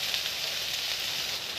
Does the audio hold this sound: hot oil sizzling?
yes